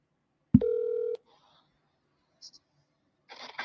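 A single telephone keypad tone sounds for about half a second, loud and close, followed by a few faint brief blips and some soft background noise.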